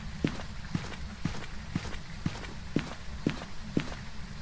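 Steady ghost footsteps in the game Phasmophobia thud at an even pace, about two per second, each step a dull low knock over a faint background hiss.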